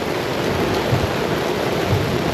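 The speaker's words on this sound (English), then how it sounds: "Now we just have the rain showers behind it" Steady rain showers falling at a campground after a thunderstorm, a loud, dense, continuous hiss of rain on surfaces with faint low rumbles underneath.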